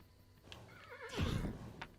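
A horse in a video game lets out a close, clear whinny with a wavering, rising-and-falling neigh, alongside a few light hoof clip-clops, with no talk over it.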